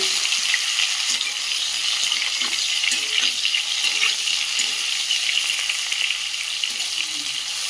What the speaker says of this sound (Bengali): এই তেলের মধ্যে ফুলকপিগুলো ভেজে নেব